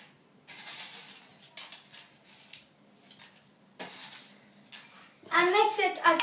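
Roasted papad chaat being mixed in a bowl, with soft scraping and clinking of a spoon against the dish in short bursts, ending in a louder, brighter crunchy rattle as crisp papad pieces are tossed in.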